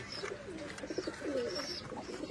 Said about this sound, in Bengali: যারা হয়তো কবুতর চেনেন বা কবুতর পোষেন তারা হয়তো দেখলে কিন্তু অবাক হবেন যে এত সুন্দর সুন্দর কবুতর